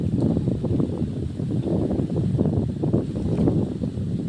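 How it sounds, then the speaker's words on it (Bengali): Strong, steady wind on a bridge roars and buffets the microphone in low, continuous gusts, with no other sounds rising above it. "এখানে খুব হাওয়া ওইখানের থেকে এখানে আরও বেশি হাওয়া"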